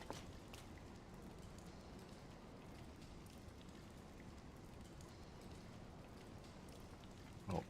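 Steady rain falls in Zelda: Tears of the Kingdom, a soft continuous patter of raindrops on surfaces that stays even and fairly faint throughout.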